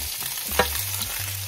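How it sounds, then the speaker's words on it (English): Bok choy being stir fried in a pan, brief and close: a steady sizzle with one sharp clank of a utensil against the pan. "Then on the pan, add the bok choy"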